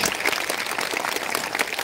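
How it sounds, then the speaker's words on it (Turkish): Audience applause for a champion at a Circassian culture festival in Uzunyayla, Turkey. A dense, steady wash of clapping that runs throughout the brief moment. "Şimdi şampiyonuma bir kocaman alkış istiyorum ama bu sefer hakikaten kuvvetli bir alkış"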